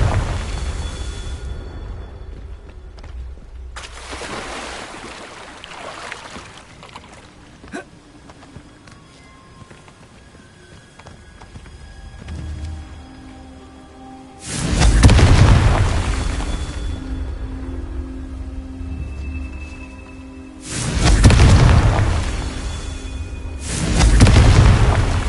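Confringo blasting spells exploding in Hogwarts Legacy, several deep booming blasts with rumbling tails, spaced apart, heavy and loud over a low game ambience.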